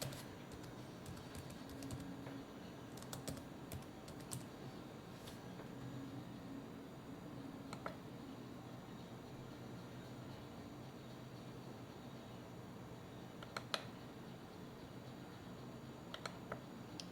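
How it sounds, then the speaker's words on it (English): Typing on an Acer TravelMate 5520 laptop keyboard gives quiet, scattered key clicks in short bursts over a faint steady background hum. "let's type in"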